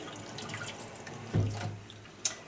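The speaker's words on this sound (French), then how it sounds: "Vous laissez couler l'eau froide" Cold tap water runs briefly over stones in a sink, a short close splash and trickle with a small drip near the end, no talk.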